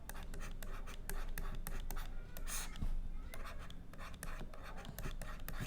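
Chalk or pen writing by hand on a board during a maths lesson, a steady run of close scratchy strokes with short taps between them, alone with no speech.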